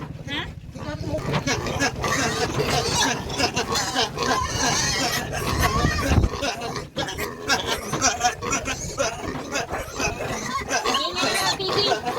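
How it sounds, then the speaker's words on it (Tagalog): Pigs oink and squeal noisily throughout, a dense, constant chorus of grunts close by, with people talking over it. "ang ingay ng mga baboy"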